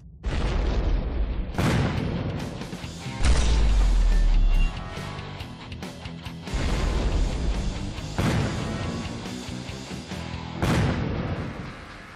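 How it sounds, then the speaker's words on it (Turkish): Several heavy booms from explosives equal to about 1 kg of TNT blowing up an unprotected wall in a field test, each loud blast followed by crashing debris and a rumbling decay, with no talk. "İlk duvarı yaklaşık 1 kilo TNT'ye denk bir patlayıcıyla havaya uçuran ikili patlamanın etkisini gördükten sonra"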